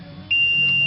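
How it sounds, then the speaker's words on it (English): A single thin, high electronic beep from a scale reset to pounds, starting partway in and holding steadily to the end over a faint background hum. "it beeps when it's done"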